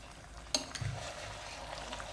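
Mutton pieces being sautéed in a pan for dum biryani, with one sharp utensil clank followed by a low, steady sizzle and soft stirring scrapes throughout.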